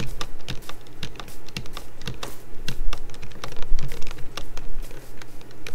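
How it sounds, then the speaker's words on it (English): Rapid, uneven clatter of computer keys being typed while playing Minecraft, close and steady throughout, with occasional heavier key presses over a low background hum. "you guys are probably hearing every single button press I make"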